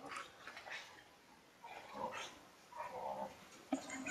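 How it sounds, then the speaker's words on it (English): Several dogs barking and snarling at one another in a scuffle, short yaps and growls at moderate distance, faint and scattered across a few seconds with a sharp bark near the end. "my dogs have something to say."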